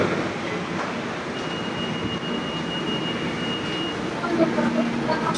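A steady rumbling hum of an MRT train with a faint high whine, heard from North Avenue station platform in Manila amid echoing ambient noise.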